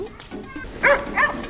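A puppy recently arrived at a Buddhist temple barks twice, with short, sharp yelps close by, over a soft background and narration.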